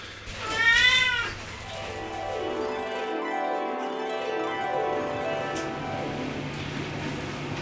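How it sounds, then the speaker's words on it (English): A house cat meowing, one loud drawn-out meow near the start followed by quieter rising cries and soft background hum, close to the listener with no talking. "She's meowing again."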